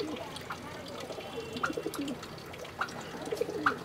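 A female green pigeon of a home-bred line coos softly in short repeated low calls, a few separate bursts over faint background noise with no talking.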